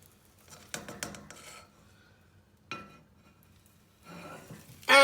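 A Korean beef omelette made with USA Wagyu is flipped in a pan, giving a few quick metallic clatters and scrapes of the pan, then a short clack and later a rustling sizzle, close and fairly loud with no talking.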